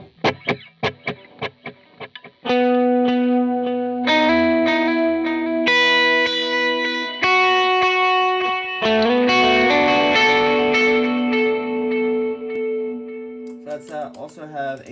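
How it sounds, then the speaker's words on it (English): Electric guitar played through a Strymon Timeline set to a dotted eighth-note delay: plucked single notes first, then ringing chords and melodic lines with rhythmic repeating echoes trailing each note, sustained and fairly loud, with no talking. "Let's hear dotted 8th."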